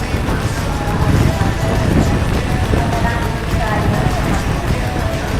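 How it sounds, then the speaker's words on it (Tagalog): Heavy, nonstop rain hisses across a trail in broadband wash, with low rumbling gusts and rustle underneath; loud and close throughout, no voices. "Grabe, walang hinto ang ulan o 2 linggo."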